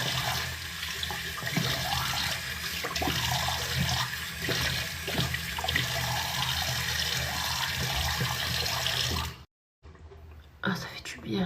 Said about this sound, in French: ça fait du bien de se rincer à l'eau froide